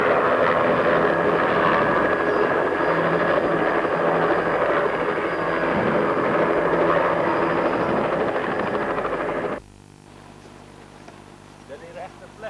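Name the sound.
helicopter arriving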